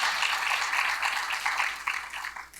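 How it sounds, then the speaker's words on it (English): An audience at an anti-violence symposium in Atlanta gives a round of applause, a dense, steady wash of many hands clapping that fades slightly toward the end. "Let's celebrate our morning speakers from session 1 by giving them a round of applause."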